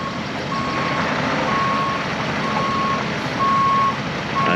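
A giant Los Angeles police garage tow truck reverses, its backup alarm giving five evenly spaced, loud electronic beeps over a constant rumbling engine.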